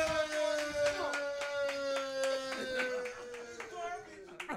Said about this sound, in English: Clap it up one time for John John if y'all think he took that round.